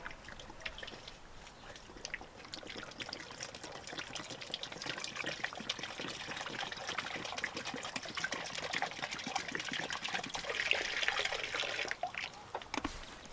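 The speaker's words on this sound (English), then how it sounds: "I'm gonna water these chickens." Water pours steadily for winter watering of chickens on a quail-keeping setup, a continuous close splashing and trickling stream that swells slightly toward the end, with no talk.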